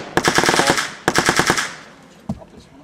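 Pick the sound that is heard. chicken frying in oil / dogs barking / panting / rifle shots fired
rifle shots fired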